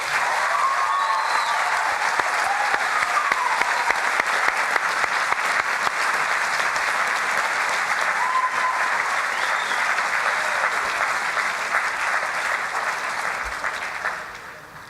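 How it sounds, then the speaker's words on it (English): A convocation audience claps for standing graduates of a hotel and catering management degree, a sustained, even round of applause filling a large hall before tapering off at the close. "stand so we may applaud their achievements"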